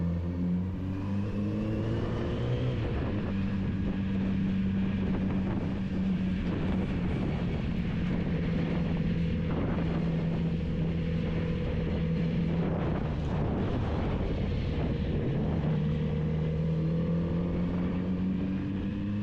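A Kawasaki Z900RS SE motorcycle engine hums steadily at cruising speed, its low tone rising and falling as the rider shifts and accelerates, with no talking.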